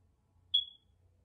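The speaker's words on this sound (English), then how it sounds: "I need a battery for that damn fire alarm shit too." A smoke alarm with a low battery gives a single short, high chirp, fairly faint, against a quiet room.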